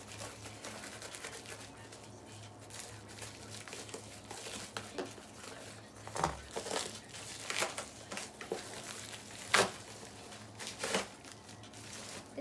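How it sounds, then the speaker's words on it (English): Cardboard package box being cut open, with crinkling, scraping and tearing sounds in irregular bursts, close and moderately quiet, growing busier toward the end. "let's cut this bad boy open."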